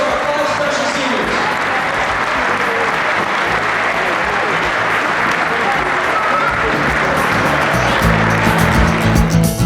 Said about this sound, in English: have a one last round of applause for our 5 special seniors